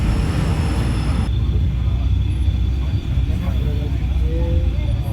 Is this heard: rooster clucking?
no